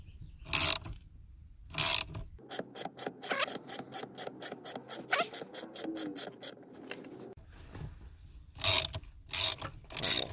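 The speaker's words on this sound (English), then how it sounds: "just disengage the steering lock" Steering lock on a 1980s Ford ignition being worked loose: a long run of close, sharp ratcheting metal clicks in steady rhythm, with heavier clunks and knocks before and after, no talking.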